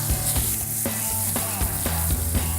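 A wagyu beef and pork belly burger patty sizzles loudly in a hot pan just after flipping, a steady close frying hiss with small crackles and spatter, with no talking.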